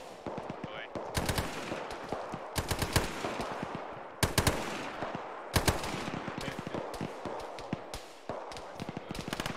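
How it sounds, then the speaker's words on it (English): Bursts of automatic gunfire in ArmA 3 during a Desert Storm highway battle, several sharp, loud volleys separated by brief pauses, with scattered single shots and distant rumble between them. "I'm shooting."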